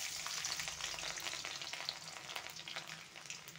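Garlic frying in hot oil in a kadhai for a spring onion sabzi, a steady close sizzle with occasional stirring scrapes and no talking.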